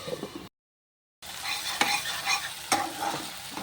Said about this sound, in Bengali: এই মাছটা, এই টমেটোটা এখন একটুখানি ভাজা ভাজা হোক